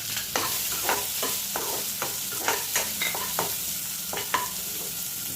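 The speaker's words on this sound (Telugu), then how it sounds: "ఉల్లిపాయలు వేసేస్తున్నాం." Onions fry in a pan for an egg curry, with a constant hot sizzle under a series of sharp, regular scraping stirs close by. No voices are heard.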